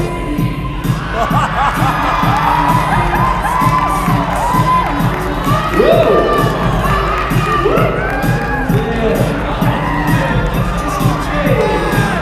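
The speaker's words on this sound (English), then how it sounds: "this crowd's gonna go crazy" A crowd of children at a school assembly erupts into loud, sustained cheering, shouting and whooping, close and dense throughout, with a few voices exclaiming over the roar.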